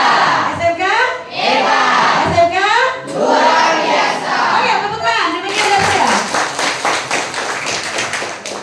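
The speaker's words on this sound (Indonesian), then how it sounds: "Tepuk tangan dulu lah." Junior high students at a school outreach session clap as a group, a dense patter of claps under loud children's voices and chatter, with the clapping growing more distinct and rhythmic toward the end.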